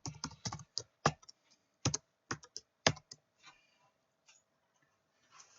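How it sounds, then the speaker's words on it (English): Irregular bursts of keystrokes on a computer keyboard, clicking in short clusters with pauses between, close and fairly quiet in a still room. "Think about what I'm going to type."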